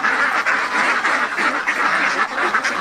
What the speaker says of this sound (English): everyone's just happily feeding the ducks